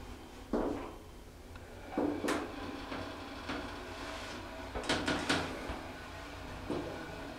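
A Concord hydraulic elevator door slides and closes with a series of soft knocks, clunks and rattles at close range in a quiet cab.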